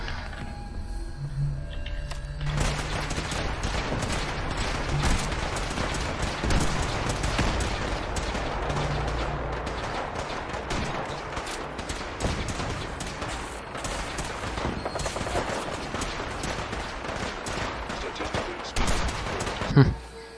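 Sustained gunfire rattles through a battle at Bunker Hill in Fallout 4, dense rapid shots and bursts going on without pause at moderate loudness, with a louder crack near the end.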